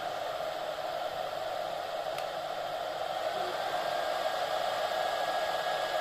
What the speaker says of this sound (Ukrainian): Коли включаєш більший ток заряду, тоді кулер включається сильніше, вентилятор сильніше.